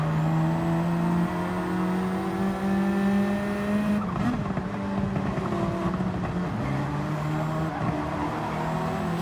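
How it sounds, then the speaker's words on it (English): GT500 race car in a racing video game, engine droning steadily with tyres scrubbing and squealing as grip lets go through turns, a rough burst of skidding midway. "He's just having to feather the throttle, the tyres just letting go on him around these turns."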